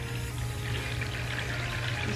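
Water trickles and pours steadily through a homemade sprouting tray, a soft continuous splashing with a low hum beneath, no talking.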